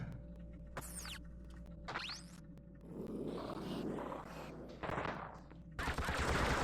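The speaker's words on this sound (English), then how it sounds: "because these gunshots are really loud" Bursts of rapid gunfire from the Xbox game The Thing, with sharp bangs and a sustained rattling volley, fairly distant and mixed with soft background noise.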